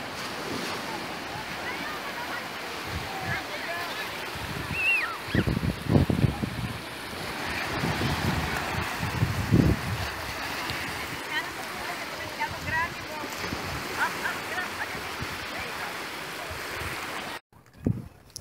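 Surf rolls and washes ashore at Naples Beach by the pier, a steady wash with wind buffeting the microphone and a few louder gusts, and a voice is heard faintly in places.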